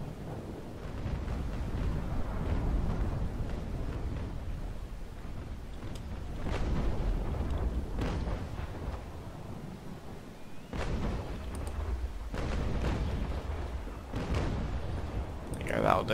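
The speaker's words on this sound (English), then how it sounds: "let's fire our right hand side into him if we can before he turns" Ship's cannon broadside from the naval video game Naval Action, a continuous deep rolling rumble of heavy gunfire with several sharper booming reports punctuating it, while someone talks over the top throughout.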